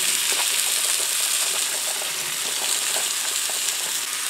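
Onion and garlic hit a very hot pan for kung pao chicken and fried rice, giving a loud, continuous sizzle and hiss, close up and steady throughout, with no talk.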